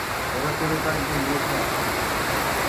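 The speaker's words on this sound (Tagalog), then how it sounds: "Bagsak na bagsak na yung ulan, oh." Heavy rain pours down steadily at an outdoor work site where the work has stopped. It is a dense, unbroken hissing roar with no gaps, filling the whole moment.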